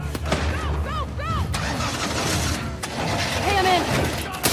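Engine starting and revving on a car in The Last of Us Part II, loud and close amid game chaos and gunfire-like bursts, with voices shouting over it.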